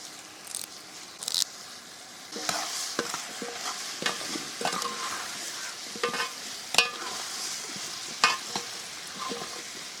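Peeled pumpkin and curry leaves hit hot oil in a village kitchen pan, setting off a steady sizzle with crackling pops and intermittent stirring scrapes at moderate volume.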